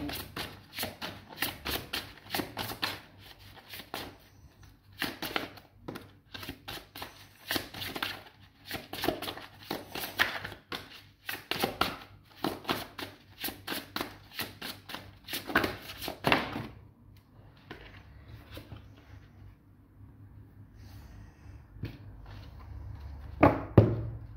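Tarot cards shuffled for a reading: repeated soft riffling and papery slaps in irregular bursts, quiet and close, with a pause and faint handling near the end.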